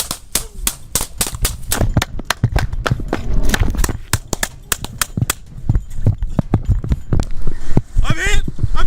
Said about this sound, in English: refused to listen and instead opens fire on Officer Tuttle